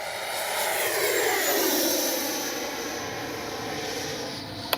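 An FMS Avanti S 90mm RC jet makes a low, slow pass with retracts and landing flaps deployed: a continuous rushing ducted-fan roar swells as it nears, then eases away, ending with a brief sharp click.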